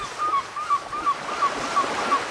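Sea waves sound effect in a children's numbers learning app, a soft continuous wash of surf with a faint repeating high tone over it.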